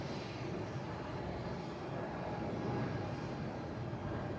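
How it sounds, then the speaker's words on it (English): A JetBlue jet airliner just after takeoff from Boston Logan, a steady distant broadband roar holding at an even level, with no voices. "We got this JetBlue that just took off."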